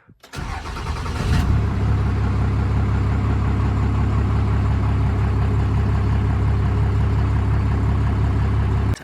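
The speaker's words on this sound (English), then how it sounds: "I'll go ahead and give you guys a little cold start." A black truck with a 5.9 engine cold-starts with a short cranking burst, then catches and settles into a loud, steady, deep idle rumble that continues to the end with no talking.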